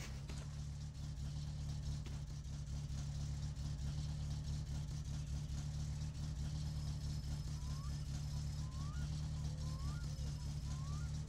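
A car engine idles steadily after a distributor adjustment in the video game My Summer Car, a continuous low rumble heard alone at a moderate level, with faint beeping chirps near the end.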